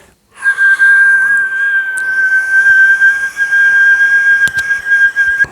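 Palate whistle with a lip and teeth warble, holding one steady, loud, piercing tone after a short silent start, with slight wavering and a couple of brief clicks near the end.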